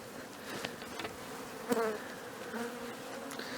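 Honeybees buzzing close by at an open hive in mid-February, a steady droning hum with individual bees rising and passing, no speech.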